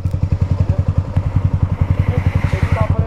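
A motorcycle engine thumps at a steady, rapid idle near the beach at Liwliwa, Zambales, close and loud, its regular beat running throughout with faint background noise.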